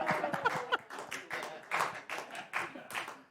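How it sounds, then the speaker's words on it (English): Studio audience clapping on a late-night comedy talk show, a few scattered bursts of moderate applause that swell and fade in an irregular rhythm, with no talk over it. "You don't have to clap."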